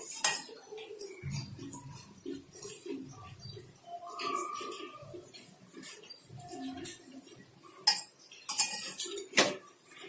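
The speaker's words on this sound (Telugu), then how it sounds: "ఇందులో నేను ఈ వేడి పాలే వేసుకొని 1 స్పూన్ కలుపుకుంటాను." A spoon stirs custard powder into hot milk in a small bowl, with close, irregular clinks and scrapes of metal on the dish that grow into louder clatter near the end.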